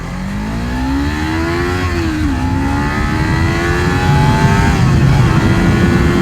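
A Kawasaki Z300 motorcycle engine revs and climbs in pitch as it accelerates, loud and close, with a brief dip as it shifts gear before pulling again.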